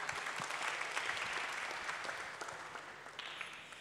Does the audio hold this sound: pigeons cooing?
no